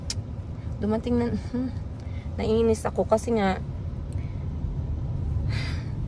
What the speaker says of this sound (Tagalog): Nasa traffic pa naman tayo, guys.